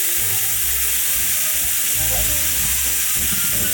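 Steak fries in a pan with a loud, dense, continuous sizzle and hiss close up, a low rumbling background underneath and no talking.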